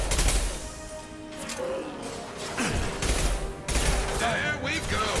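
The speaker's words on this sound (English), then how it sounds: "Firing an impact shot." Gunfire from Mass Effect 2 mixes a burst of shots with a heavy impact-round blast and crashing combat noise. In-game voices talk over the fighting throughout.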